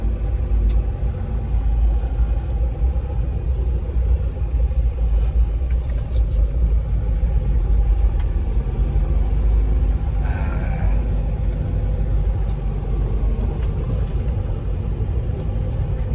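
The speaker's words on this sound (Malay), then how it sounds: "saya lebih prefer gear automatik sebab dia more easy to handle lah" A Mitsubishi Pajero wide-body automatic 4x4 idles with its engine running in a steady, low, continuous rumble, close and unbroken, with no talking.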